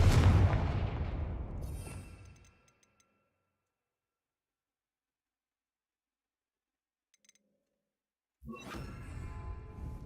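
Confringo fire spell explosions from the Hogwarts Legacy video game: loud, rumbling blasts at the start that fade out, then a long silence before another heavy burst near the end, with no talking.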